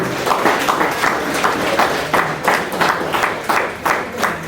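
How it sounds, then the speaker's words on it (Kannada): An audience at a temple anniversary celebration claps along with a stage speech, producing a steady, rhythmic pattern of clapping bursts that repeats evenly. "ಅವರೊಂದು ದೊಡ್ಡ ಚಪ್ಪಾಳೆ ಬರಲಿ."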